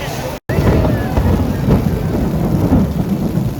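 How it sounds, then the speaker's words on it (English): Thunder rumbles loud and close during a summer rainstorm near a Florida theme park, with rain and wind buffeting the microphone, a brief dropout near the start and a voice under the roar. "Yes, that's thunder."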